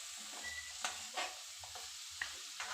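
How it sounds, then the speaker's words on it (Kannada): Drumstick pieces fry in hot oil with a quiet, continuous sizzle, broken by several sharp scraping stirs of a utensil in the pan. "ಈಗ ಎಣ್ಣೆ ಒಳಗೆ ಫ್ರೈ ಮಾಡ್ಕೊತೀನಿ."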